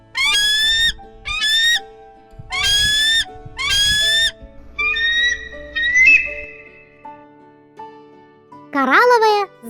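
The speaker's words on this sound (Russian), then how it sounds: "Белоголовый орлан." Bald eagle calling in a series of high, thin whistled notes, several short bursts and a few drawn-out cries, ending with a sharp, rising squeal, set against a soft background; no talking.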